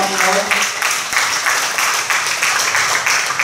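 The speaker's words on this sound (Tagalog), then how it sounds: "sa mga mga ulit pinakamalakas na palakpak para sa ating Panginoon" Crowd applause for the Lord at God's Legionnaires Youth Camp 2015: a dense, steady wash of many hands clapping continuously, with a voice briefly audible at the start.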